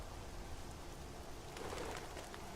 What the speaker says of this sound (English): starting to rain quite heavily.